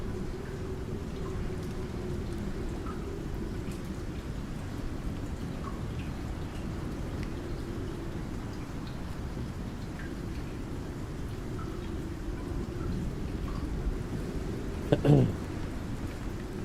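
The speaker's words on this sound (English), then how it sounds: "Big storm coming in." Steady rain pours down throughout a stormy scene in the survival video game Icarus, a dense, even wash of patter with no distinct thunderclap standing out.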